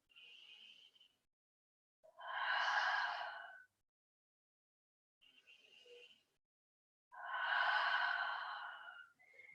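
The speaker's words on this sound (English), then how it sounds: "Two more rounds of breath here." Slow, deep breaths taken in yoga child's pose (garbhasana): soft, airy exhalations alternate with quieter inhalations in a calm, even rhythm, close and alone in a silent room.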